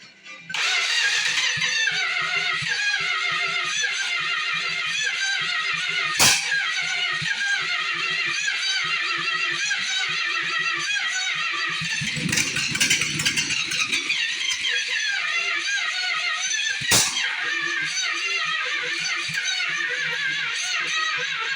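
A 1938 Chevy car engine runs steadily at close range after starting, a dense rattly mechanical roar with a few sharp bangs and a rougher surge partway through, with no talk over it.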